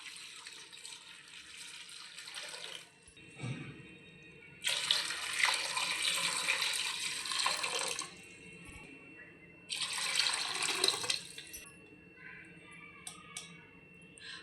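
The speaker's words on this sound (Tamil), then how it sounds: "இப்போ வந்து நம்ம 2 லிட்டர் தண்ணி ஊற்றிக்கலாம்." Water poured into a pressure cooker for mutton leg soup, over cumin and salt, in three close, splashy bursts separated by short pauses, with no talking.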